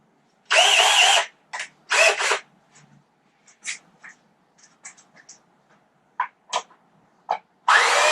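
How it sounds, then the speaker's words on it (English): An electric screwdriver drives screws into wood inside a van, giving several short loud whirring bursts separated by pauses, with small clicks and knocks of handling between them. "Thanks for pushing me to use the electric screwdriver, guys."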